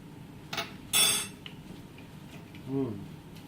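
A knife rough-chops a pear on a cutting board, making two or three close, sharp knocks and a brief scrape against a quiet kitchen background.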